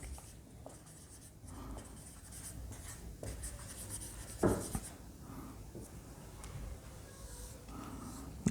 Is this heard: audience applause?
no